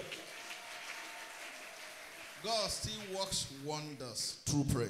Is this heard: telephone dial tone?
no